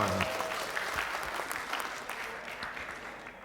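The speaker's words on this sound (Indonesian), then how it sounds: "Tepuk tangan untuk kita semuanya." Audience applause at a lively health talk for a reunion gathering, a steady broadband clatter of many hands clapping that holds throughout and slowly fades toward the end.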